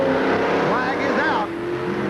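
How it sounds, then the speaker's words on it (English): Skoal Bandit and Hawaiian Punch monster trucks race side by side, big engines roaring loud and close with rising revs and a crowd-filled arena wash, while an announcer talks over them. "It's a battle of the monster trucks"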